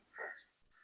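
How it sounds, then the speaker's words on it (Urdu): A single faint crow caw sounds at a distance in a quiet outdoor setting, followed by a softer short call, with no talking. "ابھی آپ آوازیں سن رہے ہیں کووں کی، چڑیوں کی"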